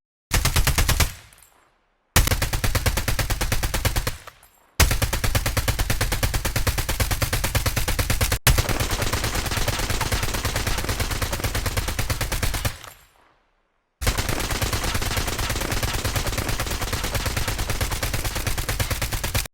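Automatic weapons fire in bursts in the mobile shooter game Call of Duty Mobile, with four long, rapid volleys separated by short pauses, loud and close.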